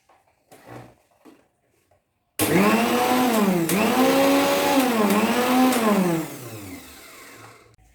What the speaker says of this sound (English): The model of this mixture grinder is Khaitan KMG 805B. Before disassembling, let me just show you that it is in full working state.